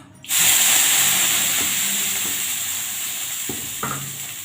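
Water sprinkled onto a hot oiled dosa pan bursts into a loud, sustained sizzle and hiss that fades slowly, with a few small clinks near the end.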